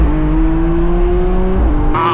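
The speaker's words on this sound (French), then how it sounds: "On entend bien le V12 en vrai." Lamborghini Revuelto V12 engine revving hard and loud, holding a steady high rev with a slight rise before dropping sharply near the end as the pitch shifts.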